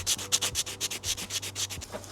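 An old Harley-Davidson speedometer is rubbed down by hand, giving rhythmic, close scratchy strokes at about five per second, loud and alone with no talk.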